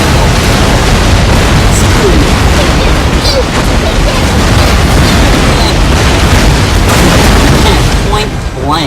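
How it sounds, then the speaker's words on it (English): Warships trade cannon fire in a naval battle in Napoleon: Total War, with loud, dense booms and blasts rolling continuously close by, while a person talks throughout. "They're gonna shoot each other as they come closer."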